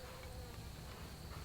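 Honey bees buzz steadily from a smoked horizontal hive, a dense, continuous drone filling the whole stretch at close range with no pauses.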